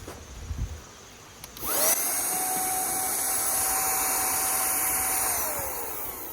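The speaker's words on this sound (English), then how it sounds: "this is a vacuum cleaner. Yeah. Like a car vacuum," A small handheld car vacuum switches on with a click and whines steadily at a high pitch, close by, then winds slightly down near the end.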